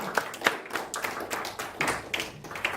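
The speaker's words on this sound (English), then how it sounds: "A big round of applause for them." Scattered hand claps from an audience at a university talk, a handful of sharp irregular claps rather than full applause, close and fairly loud with no voices over them.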